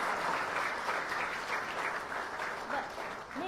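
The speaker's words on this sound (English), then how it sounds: "She deserves a round of applause." A graduation ceremony audience applauds the mistress of ceremony with sustained, dense clapping that holds loud and steady, tapering slightly at the end, and the crowd's murmuring mixes in beneath it.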